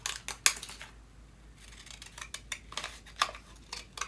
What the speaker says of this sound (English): I got some fancy scissors, so it'll make a neat looking edge on my wings